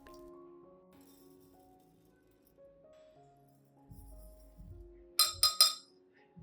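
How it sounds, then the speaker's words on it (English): Three tablespoons of rice tipped into a clean glass give a quick cluster of three sharp, close rattling bursts near the end, after a long stretch of quiet background. "Put 3 tablespoons of rice into the glass."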